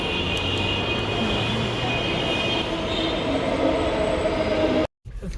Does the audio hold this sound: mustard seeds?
no